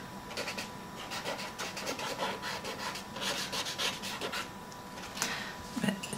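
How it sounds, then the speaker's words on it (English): A rough, steady scraping of blue pastel rubbed against dry paper, repeated in short strokes with no talking over it. "Making it, it's not very attractive scraping noise, is it?"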